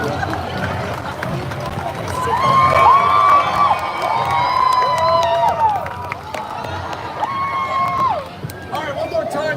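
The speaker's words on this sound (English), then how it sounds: "Round of applause!" A crowd at a Universal Studios summer show cheers and shouts, loud and close, swelling in the middle and easing toward the end, with excited voices of children and adults mixed in.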